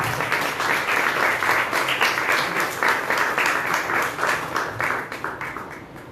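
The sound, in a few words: audience applause at an awards ceremony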